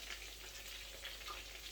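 Marinated chicken pieces frying in hot oil in a home kitchen in the United Kingdom, giving a steady, dense sizzle with crackling pops throughout, fairly faint and with no talking.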